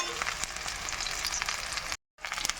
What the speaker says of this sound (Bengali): সামান্য একটু জল দিয়ে মশলাটাকে কষিয়ে নেব